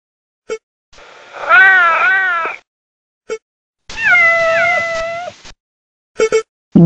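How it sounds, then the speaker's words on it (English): A cat gives two drawn-out, wavering meows in close succession, loud and near, separated by short clicks and silence. "cat,"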